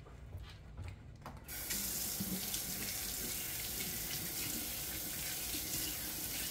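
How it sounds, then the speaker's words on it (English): A kitchen tap runs steadily for hand washing, starting after a brief quieter moment and continuing as a loud, even rush of water. "I'm washing my hands again."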